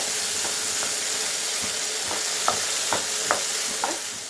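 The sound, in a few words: stirring mustard chutney in a pan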